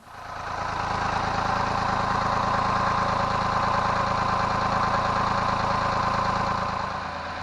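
A steady mid-pitched boat engine idles continuously while warming up, a constant, fairly loud drone with no voices.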